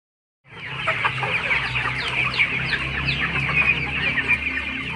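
Free-range village chickens on an Indonesian farm cluck and chatter continuously after a brief silence, several birds close by with overlapping busy calls and no voices.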